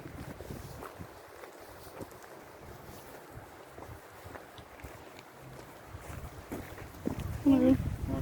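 Wind gusting on a hike near Steall Gorge below Ben Nevis, a steady rumble of buffeting against the microphone that swells louder near the end, with faint voices and outdoor sounds mixed in.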